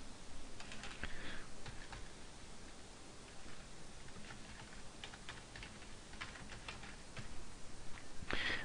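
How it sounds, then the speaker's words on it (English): Quiet, rapid keyboard typing clicks along in uneven bursts against a soft background hiss, with no voices. "I'm going to do some typing here"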